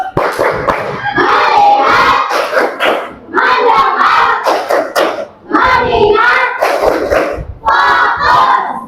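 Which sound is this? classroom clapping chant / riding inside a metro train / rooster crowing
classroom clapping chant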